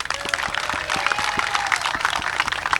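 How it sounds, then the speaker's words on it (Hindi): An outdoor political protest audience claps for the elders, a busy stream of overlapping hand claps mixed with crowd noise and some louder sharp claps. "बुजुर्गों के लिए जरा तालियां बजाएं"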